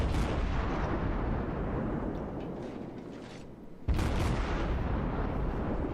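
Heavy naval gunfire from a Cleveland tier 6 cruiser in World of Warships on the Two Brothers map: a loud, continuous rumbling roar of shots that fades slightly, then a fresh burst of firing breaks out sharply.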